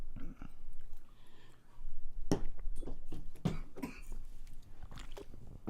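Coughing after a tequila shot, a few sharp, close coughs and throat-clearing sounds scattered among quieter breathing and shuffling.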